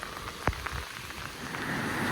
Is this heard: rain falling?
yes